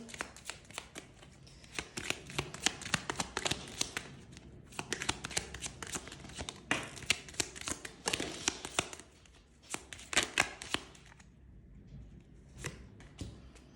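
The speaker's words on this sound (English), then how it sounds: "let's get some chakra cards on the table here" Chakra cards are shuffled by hand in repeated riffling bursts of rapid flapping and rustling, close and clear, with brief pauses between bursts and no talking.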